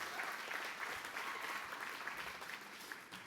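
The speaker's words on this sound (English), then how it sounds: "One more time, one more round of applause" An audience at a charity gathering claps in a sustained round of applause, dense and steady throughout at a moderate distance, with no one speaking over it.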